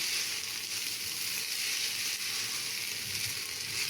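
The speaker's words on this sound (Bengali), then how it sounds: "যখন দেখবেন আপনি চাল ভাজার মধ্যে এরকম সনসন একটা শব্দ হচ্ছে তখন বুঝে নেবেন আপনার চালটা ভাজা হয়ে গেছে" Raw rice grains fry in a pot for chicken biryani made with packet spice mix, producing a steady, close, hissing sizzle that holds at an even level throughout, with no voices.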